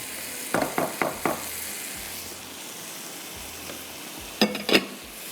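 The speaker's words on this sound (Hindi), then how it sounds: "इसके अंदर जाएंगे चिकन के पीसेस, थोड़ा सा भून लीजिएगा" Chicken pieces frying and being stirred in masala in a pan, with a low steady sizzle, a few sharp clusters of stirring scrapes and clatters early on and again near the end.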